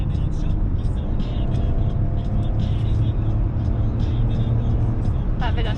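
Car engine accelerating on a highway during an Australian road trip from Perth to Brisbane, a steady loud drone with road noise and rising revs, while people talk inside throughout.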